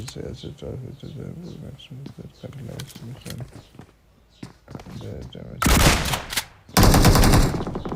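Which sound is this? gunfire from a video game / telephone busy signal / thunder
gunfire from a video game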